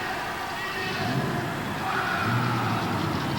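4WD pulling truck at a 1988 USHRA truck pull in Phoenix, Arizona, its engine roaring loud and steady as it builds speed down the track, pitch rising slightly, with an announcer talking over it.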